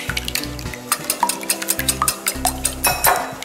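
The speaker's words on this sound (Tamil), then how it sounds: "கட்டி இல்லாமல் கலக்கிக்கலாம்." Egg batter with salt and chili powder being whisked in a bowl, quick clattering beats of a utensil against the side in bursts, close and fairly loud.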